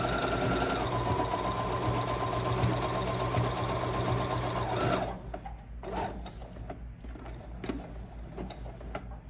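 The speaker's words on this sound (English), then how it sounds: "So the idea is I'm sewing here, and it's got to titch over to the left" A sewing machine stitches a blind hem with a blind hem presser foot, a loud steady mechanical whir for about five seconds, then slowing to softer, intermittent clicks and hums.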